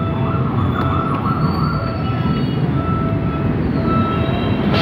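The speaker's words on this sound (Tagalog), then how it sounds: "Sasakay na naman kami ng MRT." MRT metro train running, a loud continuous rumbling roar with faint high squeals and tonal whines over the rolling noise, heard from close by.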